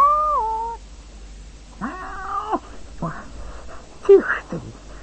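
A cat meows several times, with drawn-out, wavering calls separated by short pauses, fairly close and clear over a low background hum.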